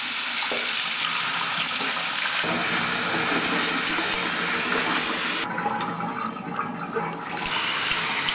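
Naengmyeon noodles are rinsed and drained under running water in a kitchen, with a loud, steady rush of water splashing close by throughout and a brief change partway as the flow shifts.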